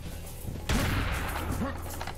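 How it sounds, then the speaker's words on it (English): A heavy cannon fires in Serious Sam HD, a single loud booming blast with a rumbling tail during combat against Egyptian-themed enemies, with a voice speaking over the game sounds. "I mean, the cannon's the weapon to use"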